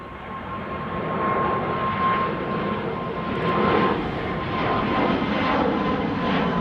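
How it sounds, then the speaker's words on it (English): A Croatia Airlines Bombardier C-Series 300 departs Amsterdam Schiphol for Zagreb, a steady jet roar with a thin constant whine, moderately loud and fairly even with slight swells, and no one speaking. "Croatia Airlines to Zagreb up next. Bombardier C-Series 300"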